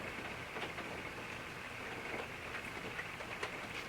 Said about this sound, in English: Yep, it's raining again.